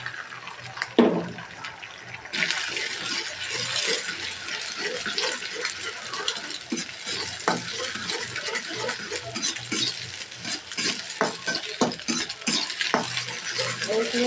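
Beaten egg with leafy greens sizzles in hot oil while a spoon stirs and scrapes the pan in a steady rhythm, a constant close frying hiss running throughout with no talk.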